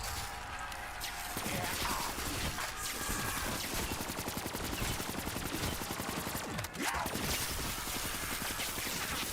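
Sustained rapid automatic gunfire in Call of Duty: Black Ops III during a round 100 run, with bursts of shots close and loud and continuing almost without a break from start to end.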